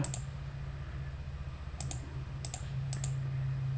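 Computer keyboard presses, including Ctrl and Alt, giving a few sharp isolated clicks over a low steady hum, with no talking.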